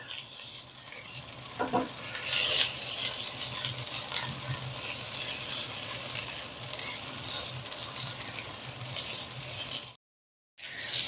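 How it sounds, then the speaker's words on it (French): Caramelised onions with added garlic frying in a pan, a steady close sizzle with stirring scrapes throughout, cut by a brief silence near the end before the sizzle returns. "Mes oignons sont caramélisés, maintenant je vais rajouter l'ail. Et on va poursuivre la cuisson pendant 2 minutes"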